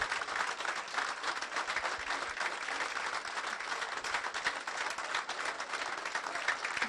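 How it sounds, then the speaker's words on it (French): Dense, continuous applause from an audience at a local political program presentation in Allauch, a steady wash of many hands clapping with no gaps, fairly loud and sustained throughout. "Merci beaucoup pour ces applaudissements."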